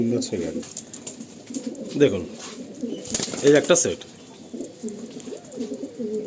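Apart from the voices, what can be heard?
Andhra pigeons cooing and flapping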